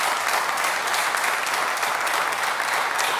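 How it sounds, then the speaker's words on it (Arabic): Warm applause from an audience at a Tunisian World Cup television show, dense steady clapping held at an even level throughout, with no voices over it. "على ذاك نحب تصفيقة حارة لسمارت تونيزي"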